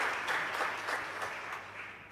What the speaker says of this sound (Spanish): para todos ellos este fuerte aplauso en gratitud y agradecimiento